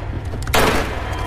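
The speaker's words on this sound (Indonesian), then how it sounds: "Luke mendapat dua tembakan dan terjatuh dari jendela." A single loud gunshot cracks out midway through a tense police shootout scene in a film, sharp and brief, with a quieter hum before and after.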